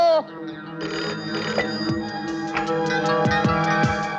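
A telephone rings in a hotel room in a repeated, melodic ringtone pattern with bright tones, clear and close, heard alone with no voices over it.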